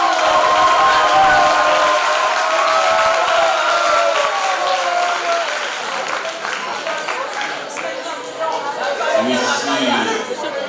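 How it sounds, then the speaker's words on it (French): Theatre audience at an inter-school drama contest final applauds and cheers, a dense, sustained wash of clapping mixed with crowd chatter and voices throughout. "on applaudit à nouveau."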